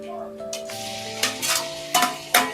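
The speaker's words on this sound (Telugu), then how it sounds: "ఇప్పుడు ఇలా ఆనియన్స్ మగ్గిన తర్వాత మనం ఇందులో టమాటాలు వేసుకోవాలి" Half a kilo of tomatoes goes into softened onions frying in a pan, with a few sharp scraping, clattering stirs over a soft sizzle and a steady tonal hum in the background.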